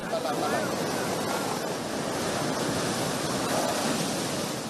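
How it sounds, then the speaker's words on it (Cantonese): Storm-surge waves taller than a person roll over a flooded seaside walkway during a super typhoon, a broad continuous roar of breaking surf and wind noise, loud and close throughout. "大浪仲高過個人"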